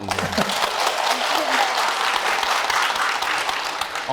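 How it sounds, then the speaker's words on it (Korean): Audience applause fills a health talk concert hall, a dense, steady clapping from a large crowd that carries loudly through the whole stretch. "박수 한번 쳐주세요"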